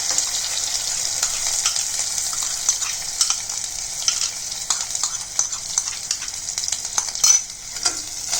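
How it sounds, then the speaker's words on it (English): Ground masala for palak paneer sizzles loudly in a pan, a continuous bright frying hiss broken by repeated spoon scrapes and stirring clinks. "And saute this."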